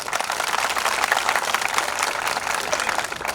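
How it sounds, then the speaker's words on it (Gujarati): A crowd claps steadily at an outdoor religious festival honouring a guru, with thick, even applause and no pauses throughout. "પણ તાળી આપણે પાડવી પડે."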